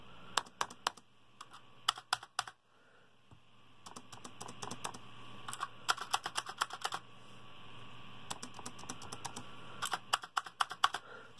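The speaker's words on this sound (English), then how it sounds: "I'll just show you in comparison to my mechanical keyboard" Keys clatter in several bursts of quick typing, first on a mechanical keyboard and then on a quieter £19 Fenifox wireless keyboard with touchpad. The taps are close and crisp, with short pauses between runs.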